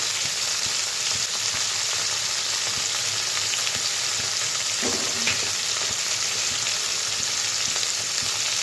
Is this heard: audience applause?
no